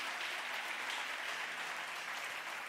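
Church congregation applauding during a Portuguese-language evening sermon, a dense, continuous wash of clapping from many people, steady and fairly loud throughout.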